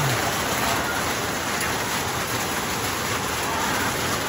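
Heavy rain pours steadily at a worksite, a dense, even hiss of downpour filling the whole clip with no voices over it.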